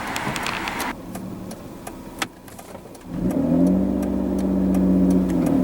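A 2003 Mitsubishi Eclipse GT runs close by, first a steady engine drone with a brief lull, then a louder mid-pitched surge as the car accelerates and holds a rising rev under load, with no talking.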